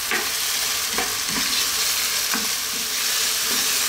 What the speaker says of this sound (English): Stir often.